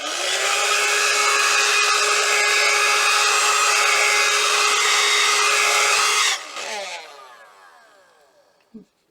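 A small handheld vacuum whines loudly and steadily for several seconds as it sucks up oats, then switches off and spins down, ending with a brief click.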